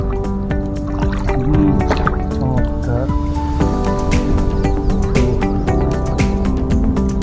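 Sea waves lap and splash steadily near the shore at Cox's Bazar, with a constant wash and scattered drips over a busy background hum.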